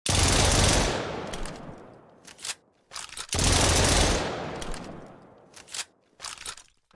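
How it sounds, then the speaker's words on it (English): Bursts of SMG and assault rifle fire from a Black Ops Zombies style shooter, two long, loud sustained volleys that cut off abruptly, each followed by a few short, sharp shot clusters. "You might notice while firing that sometimes the SMG and the assault rifle stops making noise"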